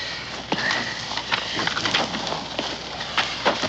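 Irregular hoofbeats clop over a steady outdoor background, several horses moving at a walk, fairly close, with no clear speech.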